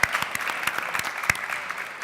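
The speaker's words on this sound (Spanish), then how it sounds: "Os pido un aplauso para ellos" An audience claps steadily for about two seconds, a dense patter of hands filling the room with no voices over it.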